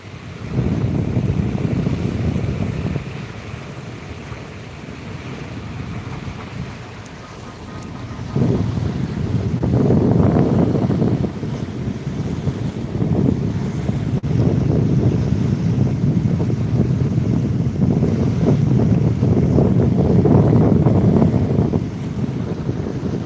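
The flooding Sutlej River roars in broad waves of rushing water that surge and ease, with heavy wind buffeting the microphone.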